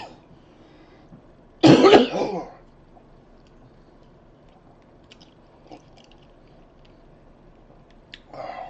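An older man coughs once in a short, loud, rough burst lasting under a second, close up in an otherwise quiet room with faint background noise and no talk.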